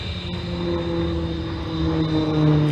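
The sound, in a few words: Short Tucano turboprop airplane flying display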